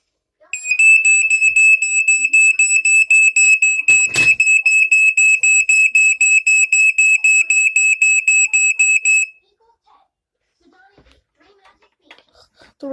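A Black & Decker Flame Buster smoke alarm set off by heat shrieks in a loud, rapid, piercing beeping pulse for about nine seconds, with one sharp knock partway through, then stops, leaving near silence and faint handling noise.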